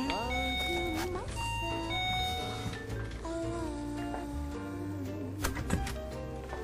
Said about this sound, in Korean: 한번 초인종을 눌러보겠습니다.